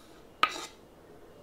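A spoon clinks against a bowl once while chopped dill is stirred into a light sauce, followed by a short scraping swirl and another tap at the end, close and clear with no talk.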